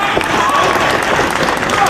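Wrestling arena crowd at a Samoa Joe versus CM Punk match applauding and cheering, a dense steady roar of clapping that fills the whole stretch at high level, with commentary voices mixed underneath.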